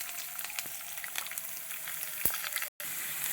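Finely chopped garlic fries with mustard seeds in oil, a faint, continuous crackling sizzle with a few small pops and one brief stirring knock before a short dropout.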